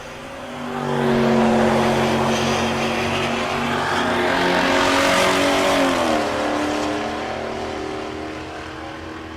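Drag racing at Tulsa Raceway Park: a 4th-gen Camaro with an LT engine and an old body-style pickup launch and accelerate hard down the strip, a loud rising engine roar with climbing gear tones that peaks and then fades into the distance.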